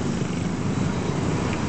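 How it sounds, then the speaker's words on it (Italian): A Borneo cat purrs steadily and close up, a continuous rough rumble that runs unbroken for under two seconds with no voices over it. "è un gatto del Borneo"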